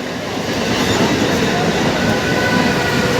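A train passes close by with a loud continuous rumble and rattling clatter that fills the whole short stretch.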